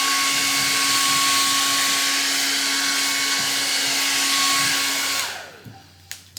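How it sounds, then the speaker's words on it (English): A blow dryer roars steadily at close range while drying a painted wooden sign, then switches off near the end, followed by a few light clicks. "I'm gonna hit this with the blow dryer real quick."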